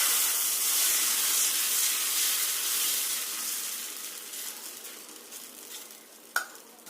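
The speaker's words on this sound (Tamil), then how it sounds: "தோசை ஊற்ற ஆரம்பிச்சிடலாங்க." Chickpea and ragi dosa batter hits a hot griddle with a loud, broad hiss that slowly fades as it cooks. A single sharp click comes near the end.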